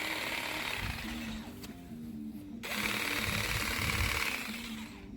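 DeWalt 20V cordless 2-in-1 hedge trimmer running in its line-trimmer mode as it trims around a plant: a steady close buzzing motor whine that drops out briefly for about a second, then resumes at full strength, with no talking.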